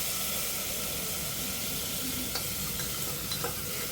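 Mutton trotters being stirred into frying onion and garlic, a constant close sizzle and hiss with a few faint knocks of a spoon against the pan.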